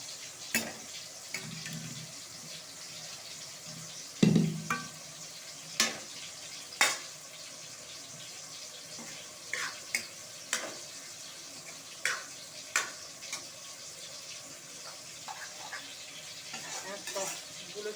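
Soybeans drop into hot spiced oil in a home kitchen for a vegetarian soybean dish, frying with a steady low sizzle under sharp spoon-and-pan clinks and stirring taps; someone talks quietly over the cooking.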